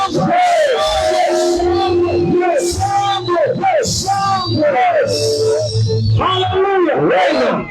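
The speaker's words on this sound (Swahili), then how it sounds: "Na tunaongeza na shangwe." A church congregation at a prayer campaign cheers and shouts, loud and close. Many voices yell and whoop in overlapping bursts that go on without a break.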